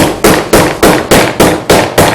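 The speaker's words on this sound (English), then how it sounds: "So what we're going to do is actually tenderize this with the meat mallet." A meat mallet pounds a rabbit belly flap in a fast, even series of eight loud, close thwacks, each blow sharp and decaying quickly before the next.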